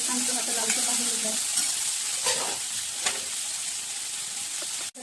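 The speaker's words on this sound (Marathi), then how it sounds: "कांदा टमाटा लसूण अद्रक ते छान असं लालसर भाजून घेतलं" Onion, tomato, garlic and ginger fry in a pan until reddish, giving a steady, close sizzle broken by a few sharp stirring clinks and scrapes.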